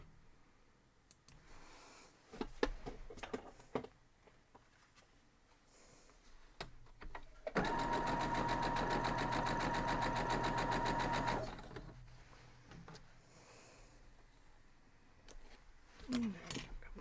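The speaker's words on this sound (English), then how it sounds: "So we're just going to go over there and sew this up," A sewing machine stitching a spin city quilt block, one steady burst of fast, rhythmic whirring and clicking lasting a few seconds, framed by quiet handling clicks and rustles before and after.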